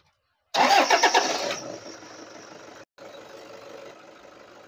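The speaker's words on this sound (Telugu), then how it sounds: "సరేనా, ఎక్బార్ గాడి స్టార్ట్ కరో." A 2014 Toyota Fortuner with about two lakh kilometres on it cranks in a quick burst of rhythmic starter pulses, catches, and settles into a steady, fairly quiet idle, briefly cut out once.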